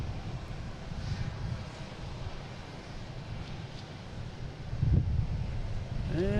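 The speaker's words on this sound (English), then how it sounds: "next coming in is a Delta coming in from Seattle" A Delta Airbus A321neo from Seattle arrives at Boston Logan, a low, steady jet roar from a distance that swells near the end, partly masked by wind buffeting the microphone, with no talking.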